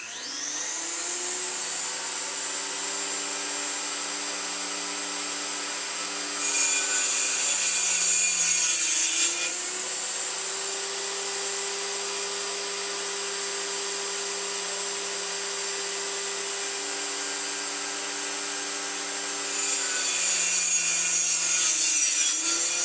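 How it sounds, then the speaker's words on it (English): Table saw cutting through a wood block to square it up, a loud steady whining drone with pitch dips and rising cutting noise as the blade passes through the wood, no talk. "Now I take it over to my table saw and I square it all up,"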